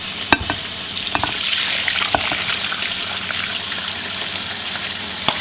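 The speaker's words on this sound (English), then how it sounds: "we're going to let it simmer in here for a couple of hours" Beef shank simmers in a pot on the stove, giving a steady soft bubbling and sizzling wash with a few sharp clinks and taps near the start, close and moderately loud, with no voices.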